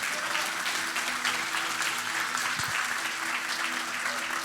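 Congregation applauding in a church service, a dense, steady wash of clapping hands that fills the room without pause, with a low hum and a brief thump underneath.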